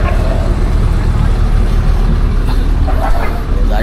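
A crowded passenger vehicle on the road to Mumbai, its engine rumbling low and steady throughout, with a constant road roar and chatter inside the cabin.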